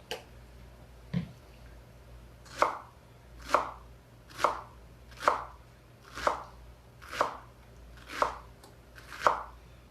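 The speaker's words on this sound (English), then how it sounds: "we're gonna keep chopping." Steady knife chops on a cutting board, eight or so evenly spaced thuds at a relaxed rhythm, close and clear with no talking.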